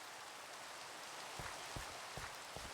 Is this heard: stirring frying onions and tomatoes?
no